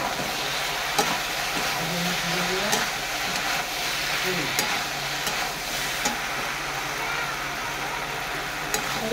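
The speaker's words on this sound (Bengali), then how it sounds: "কষতে থাকবো।" Shrimp and okra with turmeric and salt being sautéed in a pan: a steady, close sizzle with occasional sharp scrapes and clicks of a stirring spoon throughout.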